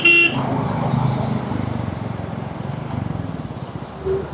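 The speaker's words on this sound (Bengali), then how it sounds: "আজকে রাস্তায় প্রচুর পরিমাণে ট্রাক" A car horn toots briefly at the start amid steady road rumble on a busy Bangladesh highway crowded with heavy trucks, with traffic noise continuing underneath.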